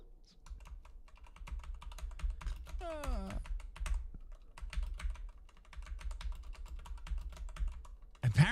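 Hard, forceful typing on a computer keyboard, a dense run of sharp clattering keystrokes that continues through the whole stretch with occasional louder bangs, and brief voices heard at moments in the background.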